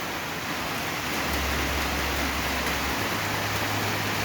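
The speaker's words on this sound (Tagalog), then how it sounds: "Kanina pa umulan, hindi pa din tumitila ang ulan." Steady rain pouring down, a dense even hiss with a low rumble underneath, no voices.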